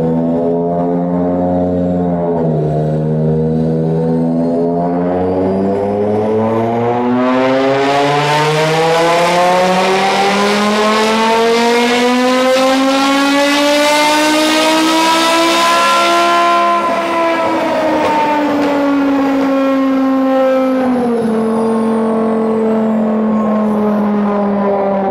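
A BMW M5 on a dyno revs hard and close, its engine note climbing, holding a sustained high howl, then falling back and rising again in long, loud sweeps.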